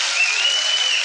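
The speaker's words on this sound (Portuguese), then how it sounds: "Salva de palmas para o nosso irmão" Applause from a church congregation for a brother at a worship gathering, a dense steady clatter of many hands clapping at once, sustained and fairly close throughout the short stretch.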